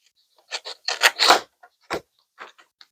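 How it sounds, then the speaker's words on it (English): Several crisp snipping and rustling bursts, close up, irregular in rhythm, with short pauses between cuts; no talking. "Just use my scissors."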